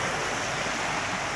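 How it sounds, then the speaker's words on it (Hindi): Floodwater surges against the back wall of a colony in Sialkot, Punjab, as a steady, dense roar of rushing water, close and continuous with no pauses or voices. "पानी इसकी वाल को टकरा रहा है"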